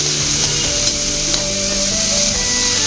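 Arum leaf greens are dry fried in a pan once their water has cooked off, giving a loud, steady, close sizzle with faint scraping of stirring running throughout.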